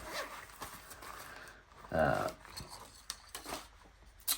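Zipper on a soft shell camera carry case being drawn open, a short rasping pull up close at moderate level, with faint handling noise and speech around it.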